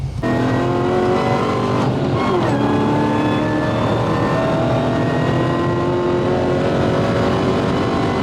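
A fifth-generation Chevrolet Camaro accelerating hard on a highway during a 60-130 pull, with a loud, continuous engine roar that rises in pitch and shifts gears partway through.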